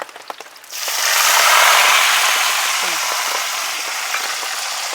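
A loud burst of hot-oil spluttering from curry leaves and chillies starts abruptly and settles into a steady, crackling sizzle with scattered pops, close up.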